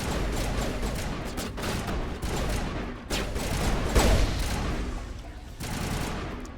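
Dense, continuous bursts of video game gunfire fill the whole stretch, rapid automatic shots with a few heavier hits, loud and steady with no talking over it.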